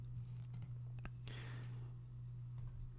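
A couple of small mouse clicks ring out at a computer running Patran engineering software, close and quiet against a steady electrical hum, followed by a brief soft rustle.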